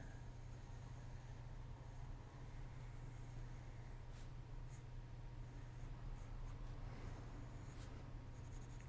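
A pencil scratches steadily across paper while a forest dweller figure is sketched in real time, a faint, close, continuous scratching over a low hum, with a few brighter strokes.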